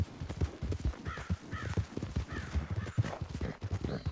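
A horse clip-clops along in a western video game, its hooves beating a quick, rhythmic, quiet pattern, with a short whinny and snorts mixed in.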